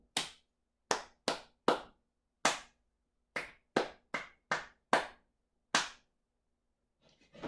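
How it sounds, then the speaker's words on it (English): Hands clap out a musical rhythm in a quiet room, about eleven crisp, close claps in an uneven pattern of short and longer gaps, then silence and a faint rustle at the end. "You can clap the rhythm of lines 3 and 4."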